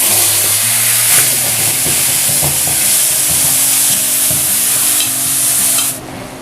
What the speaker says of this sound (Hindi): तो तेल गर्म है। इसके बाद हम प्याज की प्यूरी डाल देते हैं।